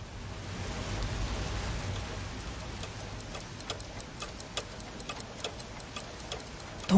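A clock ticks in crisp, regular beats over a soft, hissing wash of steady rain falling on a roof inside a shop, the rain fuller at first before the ticks stand out clearly.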